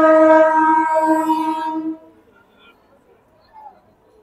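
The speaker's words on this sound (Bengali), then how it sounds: "ব্যান্ডেল আমাদের ট্রেনটা চলে এসছে" A Katwa–Howrah local train with new ICF coaches arrives at Bandel station on the Howrah main line, its loud, sustained horn sounding close for about two seconds before fading into faint station rumble.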